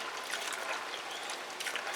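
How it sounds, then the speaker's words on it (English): Water pours and trickles steadily for a couple of seconds with a continuous splashing hiss during outdoor cooking prep. "Okay, now pour water."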